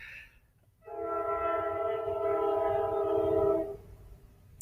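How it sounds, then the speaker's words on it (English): A passing train's loud, sustained horn with several steady harmonic tones blares for about three seconds, then cuts off, with low rumbling underneath. "My apologies for the train going by."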